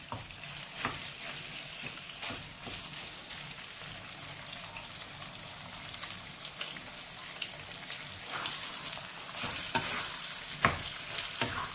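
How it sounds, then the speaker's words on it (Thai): Squid eggs stir-fried over raised heat in a pan, a continuous crackling sizzle with occasional utensil scrapes and taps, fairly soft and without speech. "ผัดให้หมึกสุกนะครับแล้วก็เ กรียมหน่อยๆนะฮะ"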